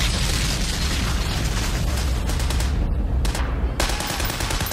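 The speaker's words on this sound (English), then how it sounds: "we had the sound of the tanks and the sound of the guns" Dense, continuous battle din of gunfire and explosions from the Saving Private Ryan combat scene, with rapid machine-gun bursts and booming blasts packed together, loud and unbroken, with a brief thinning near the end.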